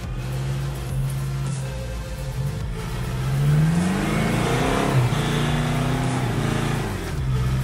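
Toyota Hilux engine revving hard as the truck climbs a sandy riverbank incline on a 4x4 trail in North West South Africa, a sustained loud droning growl that rises in pitch and strains, with no talking.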